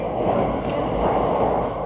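Train rumbling along elevated tracks directly overhead on a street in Asakusa, Japan, a steady broadband roar that stays loud and continuous throughout with no talk.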